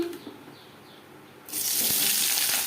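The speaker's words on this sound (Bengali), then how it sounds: "পেঁয়াজ ধুয়ে নেব" Tap water running over onions as they are washed, the flow switching on partway through and then gushing steadily and closely with no talking.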